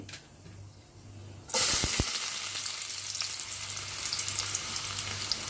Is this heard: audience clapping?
no